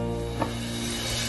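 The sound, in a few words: onions added to the pot and frying for chicken tikka biryani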